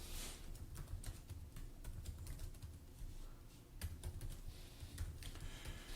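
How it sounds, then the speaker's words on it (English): Steady typing on a computer keyboard as a name and password are entered, a quick stream of soft, close key clicks with no talk. "now I'm going to put in my first and last name and create a password for myself"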